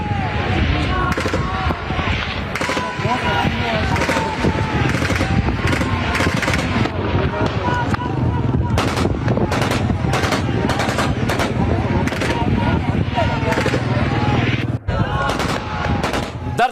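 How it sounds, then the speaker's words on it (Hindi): Rapid bursts of gunfire ring out over a crowd, with sharp repeated cracks and automatic-style volleys across a dense, loud scene, while people shout and talk throughout. "यहां देखिए सीधी फायरिंग कर दी लोगों पर"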